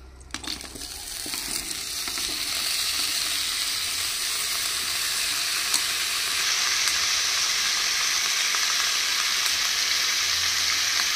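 Chopped tomatoes and tamarind fry in a couple of tablespoons of oil over a medium flame for a dried red chilli tomato chutney, starting with a crackling splash and settling into a loud, steady, continuous sizzle.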